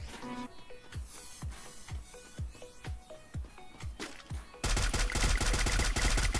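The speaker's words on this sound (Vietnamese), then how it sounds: "Đứng giữa cái cây cầu mà bắn súng à?" Gunfire in the mobile battle royale game Free Fire: about a dozen sharp single shots at a steady pace, then a dense, louder burst of rapid automatic fire, with no speech.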